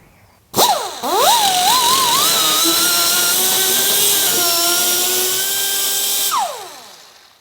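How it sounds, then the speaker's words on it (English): A die grinder spins up with a sharp rising whine and runs steadily for about six seconds, cleaning out a brake pedal arm part on a 1954 Ford F100 pickup during a master cylinder and booster swap, then spins down. "So let me grab the die grinder."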